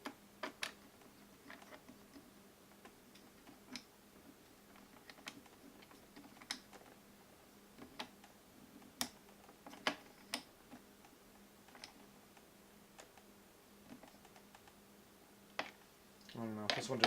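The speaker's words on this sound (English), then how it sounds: "It's supposed to click when you hit the proper torque value" A torque wrench clicks repeatedly while a bolt is tightened to its set value during installation of an AMD 2950X Threadripper CPU, giving sharp isolated ticks spaced a second or two apart over a quiet background.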